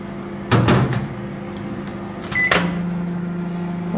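An oven door opens with a clunk and bangs shut as homemade biscuits go in, followed by a short bright beep and the steady low hum of the preheated oven running.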